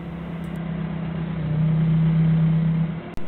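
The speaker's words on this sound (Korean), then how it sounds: "지나가는 차량 이제 한 대 보내고" A single vehicle passes on the road beside a roadside tow-truck scene. A steady engine hum builds to its loudest midway, then fades, ending in a brief sharp knock. No voices.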